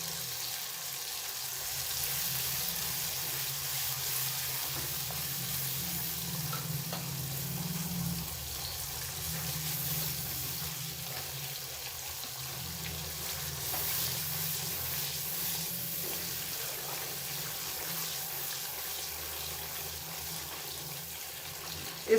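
Spices sizzle steadily in hot oil for chicken chana salan, a continuous, even frying hiss that runs unbroken throughout at moderate loudness.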